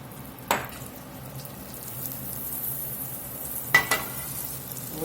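Butter and olive oil sizzle in a skillet with a soft, steady frying hiss, broken by two sharp spitting bursts, one early and one near the end.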